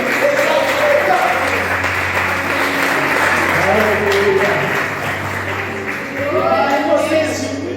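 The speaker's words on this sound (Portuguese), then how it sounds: "Louve sobre suas palmas, igreja." A church congregation claps in praise during a service, a loud sustained wave of applause with voices and singing-like calls mixed through it.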